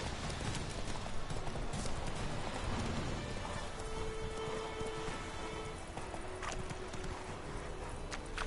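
Horse hooves clip-clop steadily in the video game Witcher 3, a continuous trotting rhythm laid over a dense, rain-like ambient wash that fills the whole stretch.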